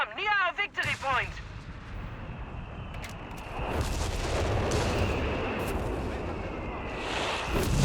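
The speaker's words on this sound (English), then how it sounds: "but gets cancelled by a mortar" Mortar rounds land in the Company of Heroes 3 real-time strategy game, heavy booming blasts and rumbling explosions swelling in the second half of a noisy battle mix, with a commentator talking over it.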